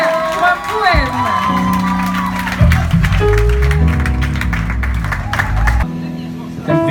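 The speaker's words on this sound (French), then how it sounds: "Alors, nous allons applaudir Axel Noël pour un poème." A crowd applauds and cheers with whoops at a slam poetry concert while music with sustained tones plays loudly underneath, and shouts rise over the clapping throughout.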